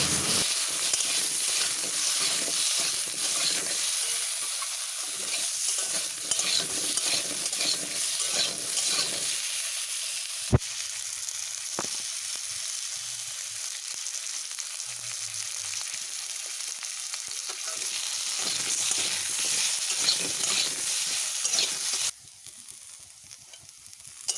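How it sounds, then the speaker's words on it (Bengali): Potatoes frying in oil in a wok, with a steady bright sizzle and hiss and an occasional clatter of a utensil before the sound drops off near the end. "আলুগুলো ভেজে নেব ওই তেলের মধ্যেই আলুগুলোকেও বেশ লাল করে ভেজে নেবো"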